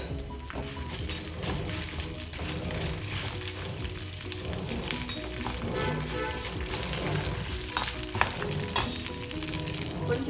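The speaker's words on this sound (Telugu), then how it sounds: "ఇప్పుడు మిరపకాయలు వేసి వేయిస్తామండి." Dried red chilies frying in oil with toor dal, a steady close crackling sizzle with occasional stirring scrapes and small pops throughout.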